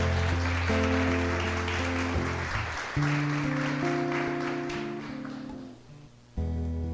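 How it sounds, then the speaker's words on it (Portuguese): Congregation in a church applauding after a scripture reading, broad steady clapping over sustained organ or keyboard chords, fading toward the end before the music swells again. "Vamos aplaudir a palavra santa."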